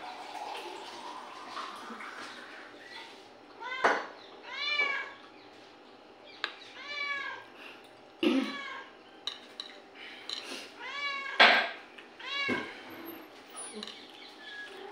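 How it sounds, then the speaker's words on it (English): A cat meows repeatedly nearby, several drawn-out cries spaced a second or two apart, over faint clinking and quiet household noises. "Maybe this cat hungry."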